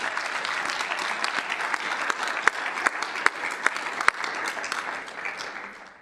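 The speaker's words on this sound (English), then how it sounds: "if you can join me in giving them a huge round of applause" Steady applause from an audience at a council meeting, many hands clapping continuously with a few sharper claps standing out, fading slightly toward the end.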